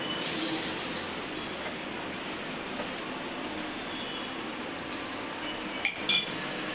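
Mustard seeds dropped into hot oil for an egg dish, giving a steady, soft sizzle and hiss throughout with a few faint clinks of a utensil near the end.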